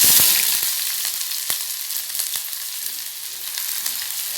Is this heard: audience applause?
no